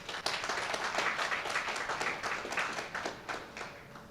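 Steady applause from a crowd, a dense patter of clapping that holds for a few seconds and then begins to thin out.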